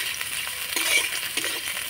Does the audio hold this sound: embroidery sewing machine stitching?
no